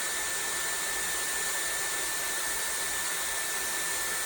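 A Dyson Airwrap hair styler blows air in a constant, even whoosh with a faint high whine, held steady without a break throughout.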